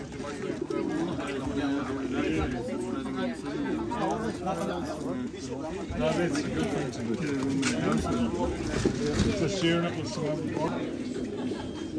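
Racing pigeons coo in soft, repeated low calls amid a busy background of overlapping chatter and voices.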